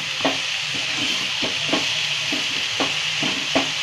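A spoon scrapes and stirs a dried fish bhaaji mixture in a pan, with regular strokes roughly every half second over a soft constant sizzle.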